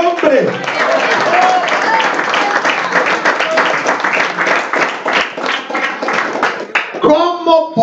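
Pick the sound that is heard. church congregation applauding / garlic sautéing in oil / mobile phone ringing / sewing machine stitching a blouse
church congregation applauding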